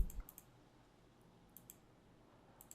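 A computer mouse clicking on a button in an Android app: a few quiet, sharp clicks, some in quick pairs, spread over a near-silent background.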